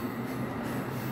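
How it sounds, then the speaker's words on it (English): An Amtrak train pulls quickly out of New Carrollton station at night, a steady close rumble of rolling rail cars with no talk. "that was an unexpected Amtrak train"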